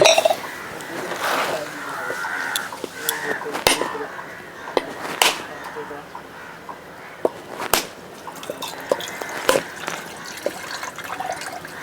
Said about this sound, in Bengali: আর নারকেল ফাটাই দিয়ে নেই আগে নাও দাও কাটারি দাও